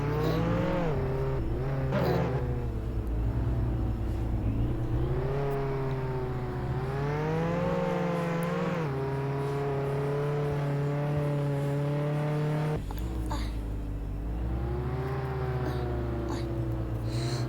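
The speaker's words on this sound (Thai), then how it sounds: "ขับรถไม่ค่อยดีเลยอ่ะ" A car driving in a video game, its engine droning and revving up and down continuously with a whirring tone, close and loud throughout.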